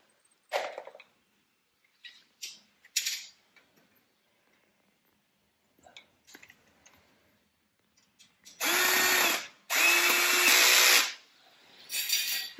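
Power drill driving bolts into a metal trellis, two loud sustained whirring bursts of about a second each near the end, after scattered clicks and handling knocks.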